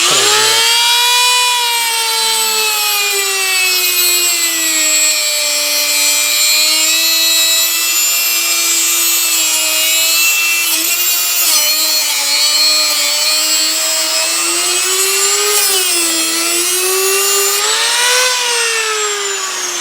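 A hacksaw cuts through black PTFE braided transmission cooler hose on an Early Bronco, giving a loud, steady, continuous rasping whine with rising and falling pitch that runs unbroken for the whole stretch.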